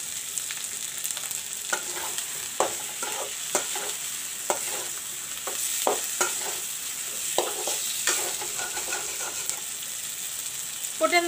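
Potatoes frying and being stirred in browned masala for a fish and potato curry (macher jhol), with a steady sizzle and repeated scraping stir strokes close by, no talking.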